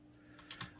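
Keystrokes on a mechanical keyboard fitted with red switches, three soft, close taps in the latter half after a quiet start, fairly faint and unaccompanied by talk.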